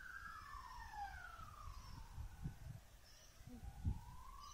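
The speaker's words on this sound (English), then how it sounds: "ambulance going past." Outdoors, an ambulance siren wails faintly in the distance, its rising and falling tone sweeping past over low, scuffing handling noise.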